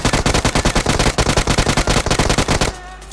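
Rapid automatic gunfire from a UMP submachine gun in PUBG: loud, close bursts of evenly spaced shots for nearly three seconds, then it stops abruptly and a quieter background remains.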